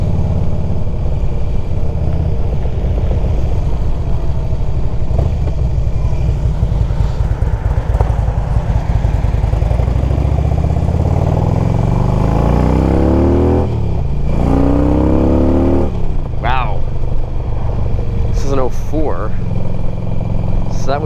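A modified Harley-Davidson 88 cubic inch V-twin rumbles loudly up close, idling with a deep throb and then blipping through several sharp revs near the end, while someone talks over it.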